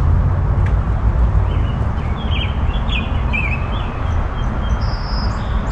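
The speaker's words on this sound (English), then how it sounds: "you can hear the birds chirping" Faint bird chirps flicker high above a heavy, constant traffic rumble on a hilltop, brief tweets scattered through the middle of the stretch.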